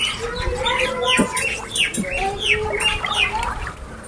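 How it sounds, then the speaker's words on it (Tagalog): Outdoor birds chirp in a series of quick tweets and short calls over constant background noise, at moderate distance, with no one talking. "Naririnig niyo ba yung mga ibon?"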